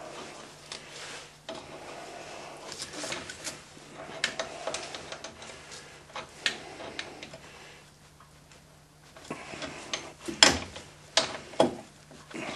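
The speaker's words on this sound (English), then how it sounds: "The gears and the straight cut gears they're noisy anyway." Steady mechanical ticking and whirring of meshing straight-cut gears on a motorcycle, with irregular clicks and a few louder knocks toward the end, heard close and moderately quiet.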